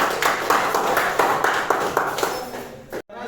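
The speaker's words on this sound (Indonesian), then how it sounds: "Tepuk tangan dulu." A classroom of students clapping hands together in a brisk, rhythmic burst of repeated claps, fairly close and loud, ending abruptly.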